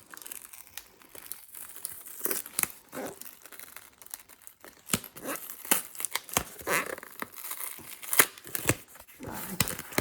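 Crinkling, tearing and rustling of packaging as a cactus subscription box is unwrapped, with irregular sharp crackles and rips spread throughout, close and moderately loud, with no voices.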